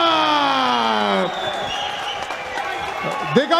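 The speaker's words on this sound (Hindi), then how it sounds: "दिगंबर के लिए तालियां हो जाए।" Crowd applause and cheering for Digamber Singh Rawat after his TKO win at an MMA fight, a loud harmonic sound fading out early, followed by steady broadband clapping and crowd noise until the end.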